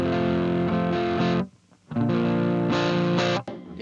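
Electric guitar chords strummed through a Fender Vaporizer amp at half volume on the neck pickup with reverb off, breaking up into gritty distortion; sustained chords ring loudly, cut off briefly, then resume and stop.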